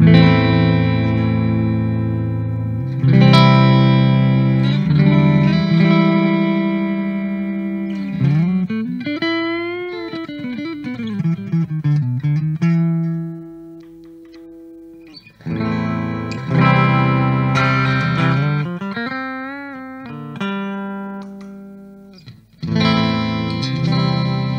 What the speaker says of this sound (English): I'm also going to play a short section with my ESP LTD MH-400. A little bit more expensive guitar, and it has active pickups too.